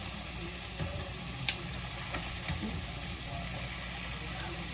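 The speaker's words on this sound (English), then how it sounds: "I'm over here about to flip the pork chops right now" Pork chops frying in a pan give a steady close sizzle throughout, with a few faint knocks and scrapes as they are turned over.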